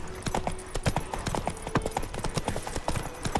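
Hooves of the horse Roach in The Witcher 3 video game, a steady clip-clop rhythm of close, distinct footfalls at a walking pace, with faint background game ambience.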